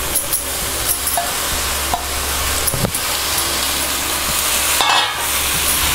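Vallarai (pennywort) greens sauté in a pan with onion, tomato and coriander leaves, giving a steady close sizzle broken by scattered stirring scrapes and clicks, with no talk.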